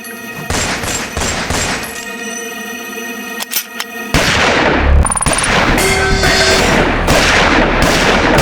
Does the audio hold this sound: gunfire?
yes